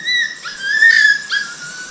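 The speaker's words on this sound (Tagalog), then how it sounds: "Pinauwi ni Pilimon yung mga aso niya. Maliit na aso." A small dog gives high, thin whining yelps, a few drawn-out cries close by over a quiet outdoor background, with no talking.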